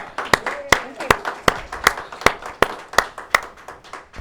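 At a local evening television event, a few people clap in a slow, steady rhythm of sharp, close claps about twice a second, with a faint murmur of background voices underneath.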